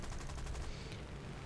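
Gunfire in the War Thunder aircraft combat game: a dense, muffled burst of rapid-fire shots rolling under engine noise, continuous and fairly faint throughout.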